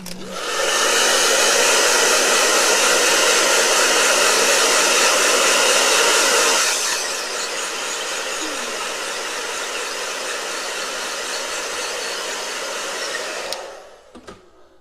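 A blow dryer runs loudly and steadily close up, a continuous airy roar that drops to a slightly lower setting midway before cutting off with a click.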